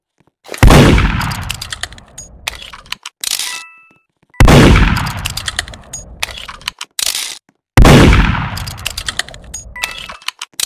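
Three loud, sharp gunshots from a kitchen gun in Roblox Murder Mystery 2, each blast ringing out with a long decaying tail, spaced a few seconds apart with scattered clinks and game sounds between them.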